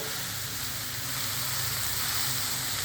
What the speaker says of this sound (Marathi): तीन वाट्या भरून आहे ही मेथी चिरलेली परतून घ्यायचं आहे